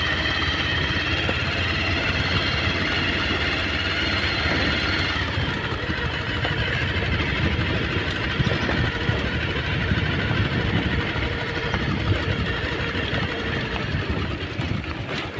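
A motorbike engine runs steadily throughout a jungle safari ride, a continuous droning rumble that stays loud and unbroken from start to finish.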